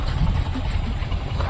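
A Mahindra tractor engine idles at a showroom, a steady low rumble that holds even and continuous throughout, fairly close and loud, with no talk over it.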